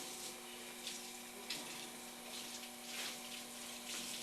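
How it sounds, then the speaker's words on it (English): A sponge is rinsed under a running tap, giving a steady, faint hiss of flowing water with soft splashy bursts as it is squeezed and moved under the stream. "You just have to rinse the sponge out really well."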